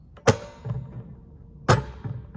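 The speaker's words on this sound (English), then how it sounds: "And it keeps slamming the tripod." Camera rig slamming against a tripod, two sharp hard thuds about a second and a half apart, each followed by a softer knock, loud and close with no talk.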